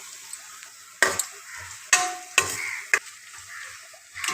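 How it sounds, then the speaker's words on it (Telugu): Onions frying in a pan with crushed garlic for a bitter gourd curry, a steady close sizzle broken by four sharp scraping stirs of a spoon, no voices. "ఉల్లిపాయలు వేసి బాగా ఫ్రై చేసుకోవాలండి"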